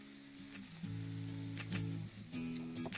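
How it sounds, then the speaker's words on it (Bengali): Chopped ginger and green chilli fry in oil, giving a soft sizzle with a few sharp clinks and scrapes of stirring, close but quiet. "এটাকে একটু ভালো করে আমি প্রথমে ভেজে নিচ্ছি"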